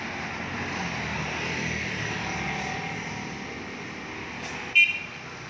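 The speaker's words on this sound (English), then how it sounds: "these guys, they sure honk their horns a lot." Steady traffic rumble on a road in the Philippines, broken near the end by a short, sharp car horn blast close by.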